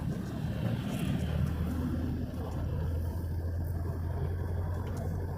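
A car cruising at about 85 km/h on a road, heard from inside as a steady low engine and tire drone with broadband road rumble, continuous and fairly loud with no pauses.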